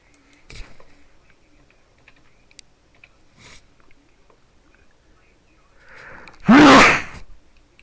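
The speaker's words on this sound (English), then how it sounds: "These sneezes are still coming." A single loud, close sneeze with a quick intake of breath just before it, following soft keyboard taps and quiet room noise.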